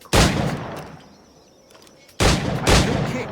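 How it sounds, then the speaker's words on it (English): Two loud, close pistol shots ring out in Assassin's Creed Black Flag, each a sharp crack with a decaying tail, about two seconds apart with quiet between them. "Pull off a few shots if you like, get a feel for it."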